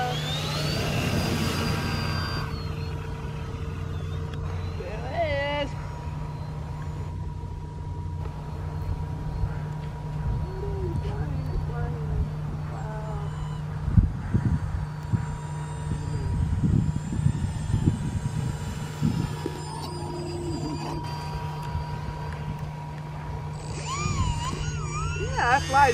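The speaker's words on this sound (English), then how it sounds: "this is the second flight of the Quest Kodiak I designed" Foam board RC Quest Kodiak model airplane flying, its small electric motor droning steadily at a distance, rising and falling as it passes, with voices talking intermittently over it.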